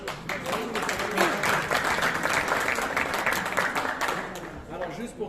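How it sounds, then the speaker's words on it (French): Audience applauding at a consular meeting of a cultural association with Morocco's consul general, steady clapping sustained throughout with voices mixed in. "je vais vous demander de ne pas applaudir entre les interventions."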